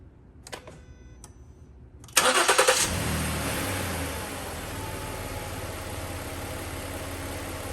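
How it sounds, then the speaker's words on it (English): A Ford Edge cranks and fires up after a few faint clicks, the starter catching with a loud surge before the engine settles into a steady, even idle close to the microphone. "Let's start the engine."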